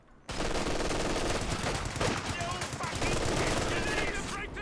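Sustained machine-gun suppressing fire in Company of Heroes 2, a dense rapid rattle that starts abruptly and keeps going loud and close, mixed with the steady rumble of the battlefield.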